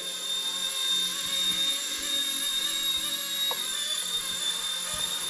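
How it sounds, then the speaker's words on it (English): A Motion RC mini helicopter hovers nearby, its small rotor and motor making a continuous high whine with a steady buzzing drone that barely changes in level. "This is the first time I've ever flown a helicopter"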